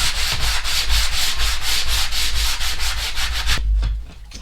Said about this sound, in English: And just to smooth off with some sandpaper to get a nice smooth edge in it.